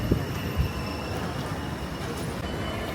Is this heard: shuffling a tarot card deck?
no